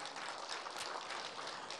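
Church congregation clapping during a Sunday morning worship service, a faint, dense and even patter of applause in a large room with no voices.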